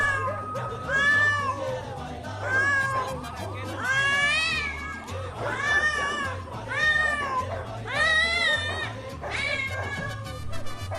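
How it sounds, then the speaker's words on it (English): Cats caterwauling while mating, a run of long, rising and falling yowls and wails in repeated bursts over a steady low hum, loud and close. "Cats Fucking."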